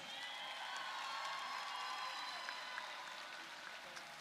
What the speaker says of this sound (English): Folks, one more round of applause for your number one alliance.